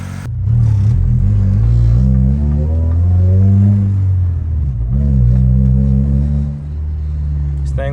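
Honda Civic four-door sedan, once automatic, now running a swapped D16Y8 SOHC VTEC engine, drives on a test ride: a loud, steady low engine rumble whose pitch rises and falls with revving and gear changes, heard from inside.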